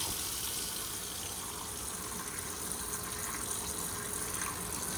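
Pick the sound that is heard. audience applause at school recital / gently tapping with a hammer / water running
water running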